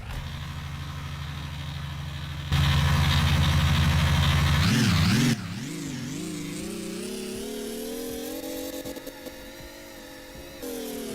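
A simulated engine in the building game GearBlocks idles, then surges into loud revving with rising and falling pitch sweeps before settling to a steadier drone; no one speaks.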